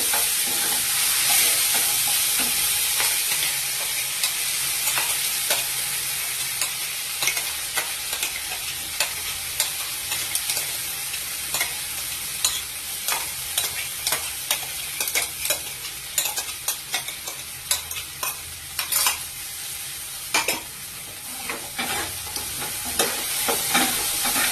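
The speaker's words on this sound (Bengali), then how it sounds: "মশলাটা দিয়ে ভালোভাবে এটা ভাজা ভাজা করতে হবে।" Steady sizzling of spice paste frying over a lowered gas flame, with repeated scraping strokes of a spatula stirring, loud and close throughout.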